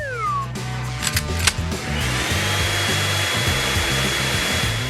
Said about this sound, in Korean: 나에게 드라이기가 있지.